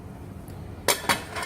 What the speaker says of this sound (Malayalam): വെള്ളം ഒഴിച്ച് കുക്കർ അടച്ച്